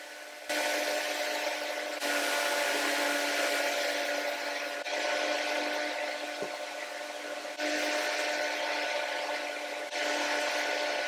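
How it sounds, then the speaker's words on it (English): Pad sander running with 150-grit paper over a reclaimed fir tabletop: a loud, steady whirring buzz that keeps going, with brief dips in level as the sander is moved across the wood. "I took my pad sander and went over it with 150 for the final sand"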